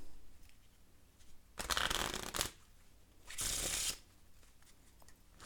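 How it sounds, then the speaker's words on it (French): A deck of playing cards being shuffled in two separate riffle bursts, each a dense, rapid flutter lasting about a second, close and clear, with quiet room between them. "Je peux même le mélanger."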